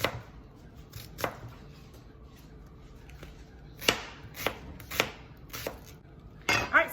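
A knife chops onions on a cutting board in a home kitchen, a handful of sharp, close thuds spaced irregularly, with quiet background between strikes.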